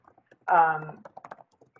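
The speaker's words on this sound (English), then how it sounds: "Somebody's typing, but not muted." Clicks from a computer keyboard left unmuted on an online call, scattered light taps near the microphone, with a brief burst of speech in the same stretch.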